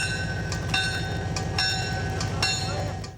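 Tennessee Southern freight train rolling slowly through a tornado-damaged town, a steady close rumble with rhythmic low wheel thumps and periodic sharper clanks, continuous throughout.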